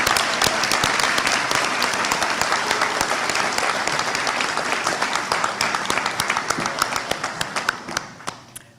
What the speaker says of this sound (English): We could clap for you all again.